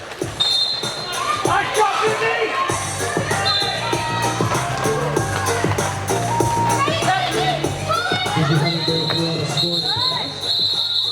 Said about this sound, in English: You could hear her team yell at her to call it off